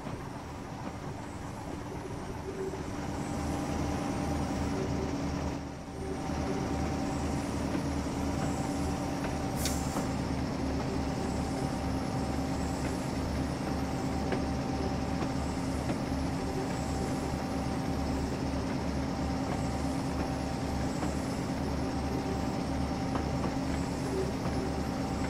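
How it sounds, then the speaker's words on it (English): A shunter locomotive in BR Blue livery rumbles along at a quarry in Train Simulator 2015, a steady low diesel drone with a faint whine and a brief sharp hiss midway. "if we let my train go off, is the other shunter in BR Blue livery"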